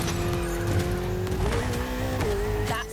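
A Ferrari 488 engine roars steadily in The Crew Motorfest, its pitch shifting with gear changes and accompanied by brief tire squeals. The sound is close and loud, with no talk.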